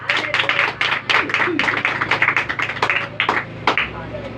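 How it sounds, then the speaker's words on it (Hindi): A congregation gives a loud round of clapping during a Hindi-language church sermon, with sharp irregular claps rising and fading over several seconds alongside raised voices. "जिंदा खुदा के पाक कलाम के लिए एक बार जोरदार ताली"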